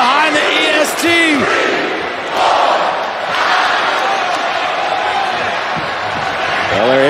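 Loud wrestling arena crowd roaring for Bianca Belair during a Raw match against Doudrop, a dense sustained wall of cheering with shouts and whoops, swelling and dipping slightly and continuing steadily throughout.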